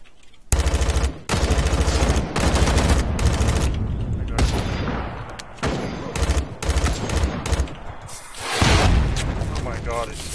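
Rockets and gunfire pound away in an online shooter game, dense bursts of rapid automatic fire and booming blasts in loud close volleys with brief gaps, while players talk over the noise.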